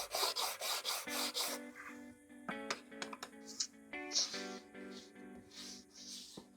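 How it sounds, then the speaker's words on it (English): Wooden part for a small-parts table saw sled being sanded by hand on sheet sandpaper laid on a flat surface, a close, steady rasping rub in repeated strokes, with a few light knocks and clicks between passes. "I'm just gonna sand it down. Some sheet sandpaper on the flat surface."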